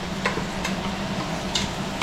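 Onions fry in a pot alongside a chuck roast, a steady close sizzle with occasional faint ticks and clinks, no talking.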